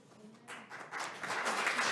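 Applause from an audience at a talk breaks out after about half a second and swells into dense, steady clapping that fills the rest of the moment.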